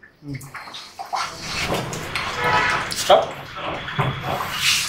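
Mutton cooking stock is poured into a pot of mutton curry, a splashing, gurgling pour that starts after a brief pause and runs steadily with a splash near the middle, with someone talking over it.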